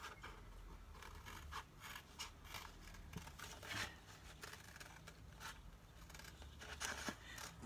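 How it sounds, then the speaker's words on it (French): Scissors cutting around a paper shoe shape, making a series of quiet, close snips and rustles of paper in an uneven rhythm. "Découper tout autour."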